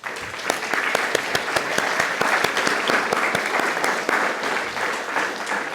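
Audience applause at a school awards evening for a maths prize winner, a steady sustained round of clapping with distinct individual claps standing out near the front.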